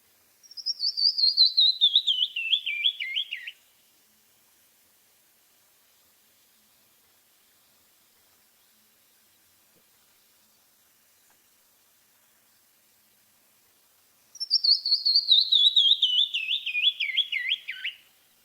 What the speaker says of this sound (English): you may hear the song long before you see the bird.